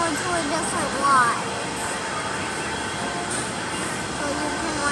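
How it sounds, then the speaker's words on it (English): The Six Flags Over Texas mine train rumbles along its track in a steady, loud roar with faint squeals, while people talk nearby over the noise. "So you can ride the mine train."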